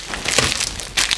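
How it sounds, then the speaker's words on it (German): Paper packet of baking powder being torn open and emptied, close crinkling and crumpling of the paper in short rustling bursts. "in den Grieß packe ich jetzt noch eine Tüte"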